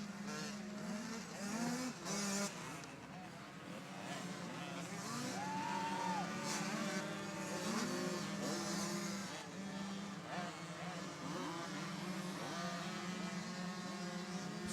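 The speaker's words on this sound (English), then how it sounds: "So 50cc open riders out on the track here." Buzzing engines of 50cc motocross bikes racing around a dirt track, a continuous high whine rising and falling as riders accelerate, with commentary-like voices faintly underneath.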